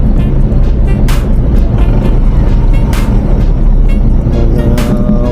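A truck rumbles past on a road near a university campus, producing loud, continuous low engine roar with a few sharp bursts, dominating the whole stretch.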